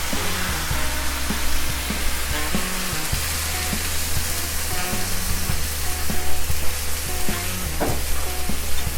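Lamb tajine with kefta spice simmering and sizzling after water is added, a dense continuous bubbling hiss with occasional stirring clinks, close and fairly loud, no voices.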